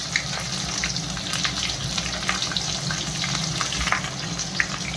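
Sliced onions and green chillies in hot oil in a home kitchen pan, a continuous close sizzle and crackle with occasional pops, steady and fairly loud with no talk.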